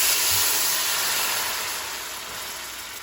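Shallots cooking in a pan of olive oil and leftover bacon grease, a steady bright sizzle and hiss that fades slightly over a few seconds.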